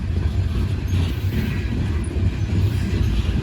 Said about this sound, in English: Should be some locomotives coming up here pretty soon.